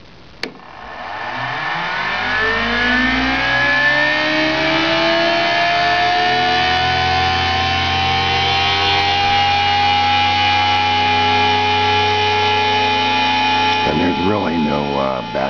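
Bedini zero force motor, a small electric motor, spinning up and running steadily at speed for most of the clip, a loud continuous whirring hum with rising tone early on, briefly changing pitch near the end.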